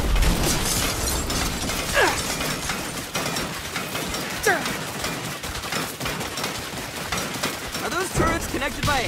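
Rapid turret gunfire from a Saints Row game rattles in repeated bursts over a constant mechanical din, with voices talking over the action.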